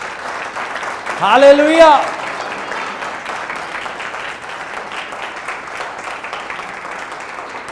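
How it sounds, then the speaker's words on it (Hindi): Applause from a church congregation at a Hindi-language worship service. A preacher's voice rises in a brief shout near the start, then steady, moderately loud clapping continues underneath. "प्रभु के लिए ताली होनी चाहिए यहां पर।"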